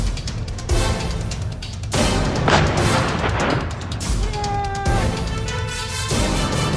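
Explosions in a Hezbollah attack on an IDF command center at Branit barracks, heavy booms and rumbling blasts in several bursts, with a faint whistling tone near the end.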